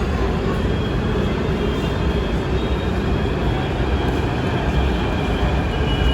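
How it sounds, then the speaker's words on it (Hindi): A Delhi metro train rumbles into a station with a loud, steady roar and a high whine that fill the whole stretch. "मेट्रो आएगी तो चलते हैं"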